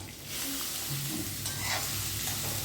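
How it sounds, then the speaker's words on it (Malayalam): Onions sizzle and crackle in hot coconut oil, with a few stirring scrapes in the pan; no one speaks. "വെളിച്ചെണ്ണ ഒഴിച്ചിട്ട് നമുക്ക് ആ ഉള്ളിനെ അതിനിട്ട് വറുത്തെടുക്കാം"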